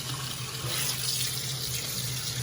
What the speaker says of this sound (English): and then you rinse it with water, cold water.